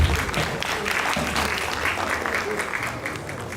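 Audience applause at a sickle cell foundation event, a steady wash of clapping filling the room throughout, with faint voices and low rumble mixed underneath.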